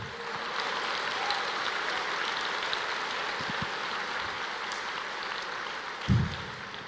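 Congregation at a church service applauding, a steady wash of many hands clapping at a moderate distance for several seconds, with no voices standing out.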